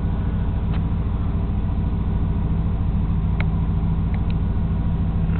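A car engine idles steadily after a cold start, a loud close rumble with an even, low pulsing rhythm that holds unchanged throughout and has no talk over it.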